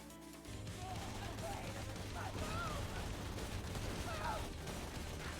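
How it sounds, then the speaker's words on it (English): In the video game Cool Item Simulator, an early-game weapon fires in rapid repeated shots with occasional explosions, a dense continuous barrage playing under a speaking voice. "every few shots an explosion does happen with this"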